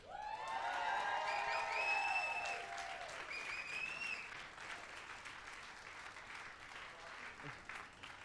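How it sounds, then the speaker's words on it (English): An audience at a King Charles III Coronation Medal ceremony applauds and cheers for a recipient, with loud whoops over steady clapping that settles into lighter applause as it fades. "One last well-deserved cheer for Susie."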